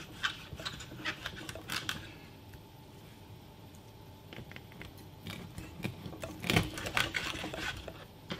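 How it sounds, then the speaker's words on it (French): A sharp knife chops coarsely through tough-skinned conger eel tails on a board for homemade fish soup, giving a quick run of close, crisp cuts and taps, then a pause before more chopping. "Pour les queues de congre ou de murène, on va aller trancher ça grossièrement."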